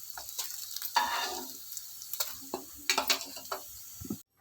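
Food frying in a pan makes a close sizzle, with clustered scraping and clicking stirs and a few louder crackling bursts, then stops abruptly near the end.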